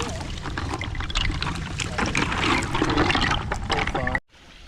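Water splashes and trickles into a bucket of apple snails, making an uneven, close, sloshing pour with bursts of splashing that ends abruptly.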